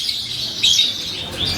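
A lovebird named Vampire gives bright, high chirps in quick short bursts, close and clear over faint background noise with no talking.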